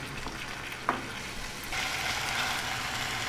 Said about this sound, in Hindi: मीडियम फ्लेम पर इसको गोल्डन ब्राउन होने तक फ्राई कर